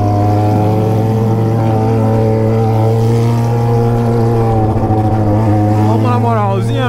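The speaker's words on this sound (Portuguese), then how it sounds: "Mano, essa ninjinha tá soltando uns fogos cabulosos." A Kawasaki Ninja motorcycle's exhaust drones loud and close in a steady, even growl while idling and revving, the pitch climbing as the engine is revved toward the end.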